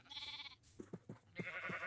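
Minecraft sheep bleat in a wavering, nasal series of cries, one long bleat, a short stuttering run of low notes, then another long bleat, close and with no talking.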